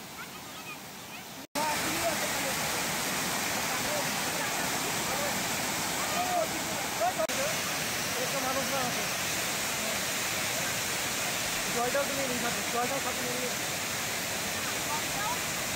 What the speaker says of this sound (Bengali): আর এখানটায় যে ঝর্ণার মতো পড়ছে, জিনিসটা আর্টিফিশিয়াল কিন্তু এত সুন্দর